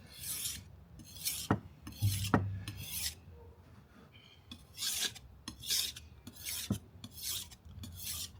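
A knife blade is sharpened on a 600/1500 or 3000/8000 grit whetstone, giving repeated rhythmic rasping strokes, each a short scrape, close up and alone.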